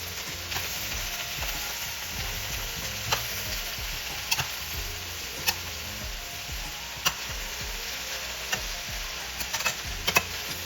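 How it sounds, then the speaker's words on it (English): Peppers and onions with taco seasoning cooking in a pan for chicken fajitas, giving a soft, steady sizzle with occasional light utensil ticks. "Let that simmer down for a while."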